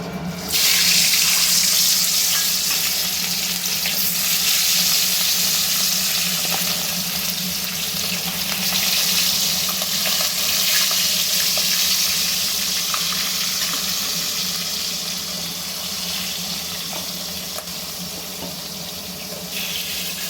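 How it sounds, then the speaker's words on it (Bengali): Hilsa fish pieces frying lightly in salted oil, a loud, steady hissing sizzle that holds for the whole stretch with slight swells and no voices. "ইলিশ মাছগুলো একটু ভেজে নেব হালকা করে"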